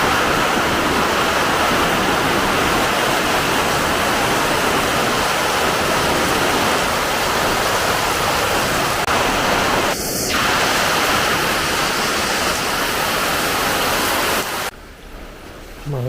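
Heavy rain pours down continuously, a dense loud roar of falling water that stays constant throughout before cutting off near the end, with a brief tone sounding once in the middle.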